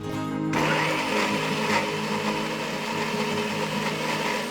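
An electric kitchen blender whirs steadily, grinding tomato and other ingredients into a paste for a chicken gravy, a loud continuous motor drone starting abruptly after a short pause.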